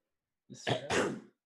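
A single close sneeze, a short intake followed by a sharp burst, in an otherwise quiet room.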